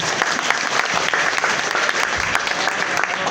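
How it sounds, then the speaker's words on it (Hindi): At a political rally, an audience breaks into dense, continuous clapping, a steady close wash of many hands with no voices standing out. "बहुत अच्छा, एक बार सभी ताली बजाएंगे।"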